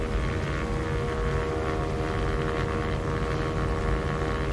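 A simulated Cessna 172S single-engine propeller plane taking off in a crosswind in X-Plane 11, a loud, continuous engine and propeller drone at steady power with no voices.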